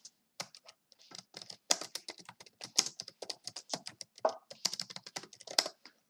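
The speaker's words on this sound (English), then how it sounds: "Let's type hello." Rapid clicking of a computer keyboard as someone types a short message during online chess play, close and steady with brief pauses between keystrokes.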